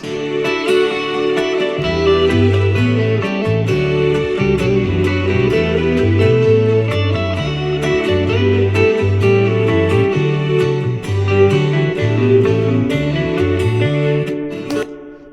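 A full instrumental track with punchy bass notes, percussion and a melodic lead solo playing together, dense and steady at full volume, without any voices.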